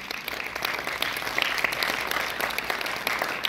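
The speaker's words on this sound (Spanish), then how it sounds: "Adelante, Jimena, un aplauso para ella." Applause from a live audience welcoming a reader about to present her text, a steady clatter of clapping lasting throughout at moderate level, with no voices over it.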